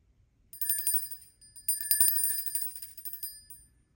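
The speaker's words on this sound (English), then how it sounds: "Tinkling Bell Small," A small, tinny bell jingles rapidly in two bursts, a busy metallic trill that rises, briefly dips, then rattles on before fading out.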